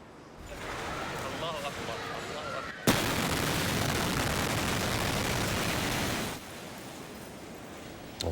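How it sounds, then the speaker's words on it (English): A sudden loud explosion blasts in, followed by several seconds of roaring rumble and debris noise, with earlier background chatter beforehand. "Moments later, the explosion happens."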